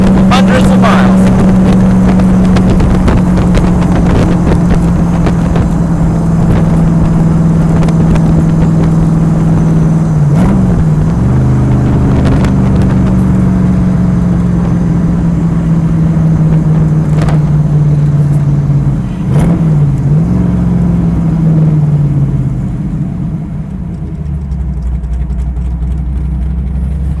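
A 1964 Cobra 289 replica's V8 cruising at 70 mph around 2,800 RPM, a loud, steady engine drone with two brief pitch dips along the way and road rumble beneath, easing off near the end.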